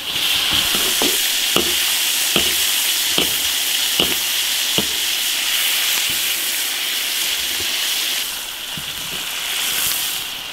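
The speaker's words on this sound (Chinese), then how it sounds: "把鱼煎入味" Fish fries in an iron wok with ginger, garlic and chili sauce, giving a loud, steady sizzle broken by sharp spatula scrapes and stirs, with no voices.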